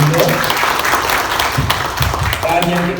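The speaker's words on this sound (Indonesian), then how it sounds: "tepuk tangan Bung Rido." A crowd at a Democratic Party meeting in Lampung applauds, a dense burst of clapping throughout, loud and close, with voices mixed underneath.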